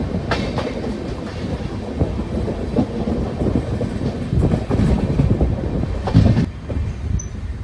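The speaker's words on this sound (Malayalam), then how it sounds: "ചെറുതായിട്ടൊന്ന് ട്രെയിൻ സ്റ്റോപ്പ് ചെയ്യാൻ പോകുന്നു" The Raptisagar Express slows toward a halt at Kadakkavoor station, heard from on board as a loud continuous rumble of wheels and carriages with rhythmic clatter and brief squeals, then a sudden drop in noise near the end.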